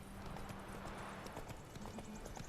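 Horse hooves clip-clopping in The Witcher 3 video game, a steady run of close, repeated hoof beats over a continuous background of game ambience, with no talk.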